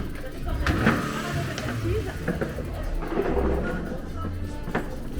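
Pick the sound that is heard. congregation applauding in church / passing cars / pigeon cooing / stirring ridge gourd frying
passing cars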